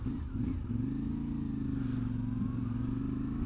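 A CF Moto 450MT motorcycle engine on a test ride, holding a steady, loud mid-pitched drone with a slight waver in revs throughout, close and continuous with no talk.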